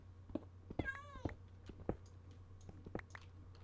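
A cat in the video game Minecraft gives a short, faint meow among soft clicks and light game sounds over a low steady hum.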